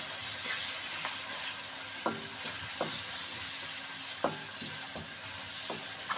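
Spiced masala with tomatoes frying in a pan, a steady bright sizzle running throughout with several soft scraping stirs of a spoon spaced across the clip, close and fairly quiet, no talking.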